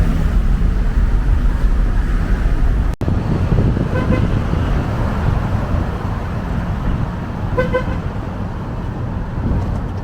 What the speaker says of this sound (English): Always a little bit of traffic right here.